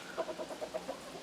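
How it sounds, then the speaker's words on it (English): A young naked neck silky rooster gives a short run of clucking calls, six or so evenly spaced pulses, moderately close and alone. "The silky rooster's very young and just started to crow a few weeks ago, but he's in his prime now and he crows all the time"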